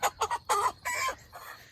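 Chickens cluck loudly and close by in transport cages before slaughter, in several short, uneven bursts with brief gaps between them.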